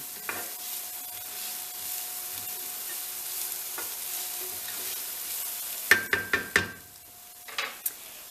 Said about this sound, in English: it smells like heaven once you have these kind of items sauteing. Peppers, onions, garlic